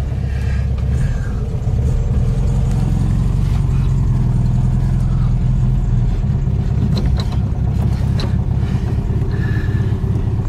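A VW Beetle engine rumbles steadily with a low, loud drone while the car is driven, with faint rattles over the continuous motor noise.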